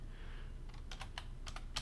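Rapid keystrokes on a computer keyboard while typing an email address into a sign-in field, a few quick clusters of clicks over low room hum, with no talking.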